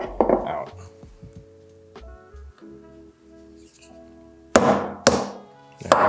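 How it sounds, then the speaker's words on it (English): Sharp metallic hammer strikes drive a carburetor part out, using an old carb needle as a punch on a Sportster motorcycle carburetor; a few loud close taps come in a quick cluster near the end after quieter workshop handling. "We're gonna take the old carb needle and try and use it as a punch to get this"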